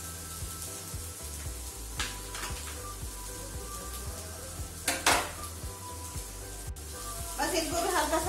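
Vegetables fry lightly in a home kitchen pan, a soft sizzle under clinking of utensils against cookware, with a louder scraping burst midway and another toward the end.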